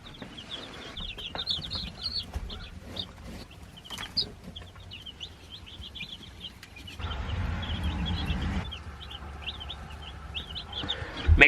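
Chickens cluck and chirp continuously at moderate distance in a coop, many overlapping calls over a low background hum, with a faint voice in places.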